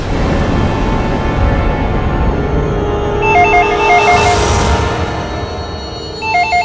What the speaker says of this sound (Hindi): तो भी फोन उठाओ